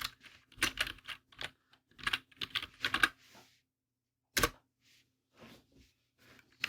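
Someone types on a computer keyboard in short bursts of clicking keystrokes separated by pauses, close up and fairly quiet, with no voices.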